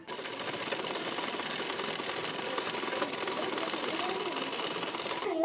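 Sewing machine topstitching along the edge of a blouse waistband strip, a steady fast whirring hum that runs close and continuous from start to finish, with a voice speaking over it.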